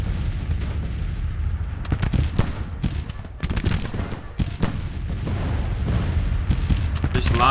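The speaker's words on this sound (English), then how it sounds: "There's lots of artillery and skirmishes today." Booming Civil War artillery salvos and crackling skirmish gunfire from the Grand Tactician: The Civil War game, sounding as repeated heavy thuds layered over a steady rumble across the whole stretch, with no talk over it.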